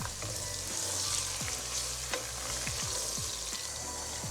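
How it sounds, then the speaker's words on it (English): Ginger garlic paste frying with browned onions for chicken biryani, a steady broad sizzle with repeated scraping stirs of a spoon through the pan, close and continuous with no voices. "Once the onions have browned, drop in the ginger and garlic paste. Give it a good mix."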